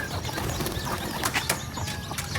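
Racing pigeon arriving at a loft during arrival training, with brief bursts of wing flapping over steady outdoor background noise and faint bird calls.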